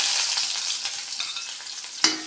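Shallots fry in hot oil with popped mustard seeds for a Kerala tempering, a loud, close, continuous sizzle with a brief stirring clatter near the end.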